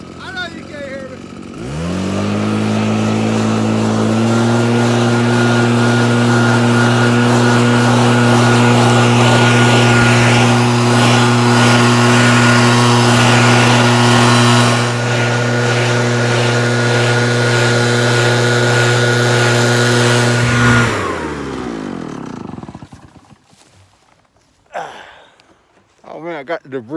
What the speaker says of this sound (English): pretty handy little vacuum cleaner tool